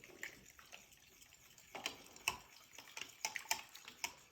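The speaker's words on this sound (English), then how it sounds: "I used my Danish dough whisk to mix up the starter with water" A Danish dough whisk stirs sourdough starter into water in a bowl, making wet sloshing and quick clicking taps against the container in an irregular rhythm, fairly faint and close, with no talking.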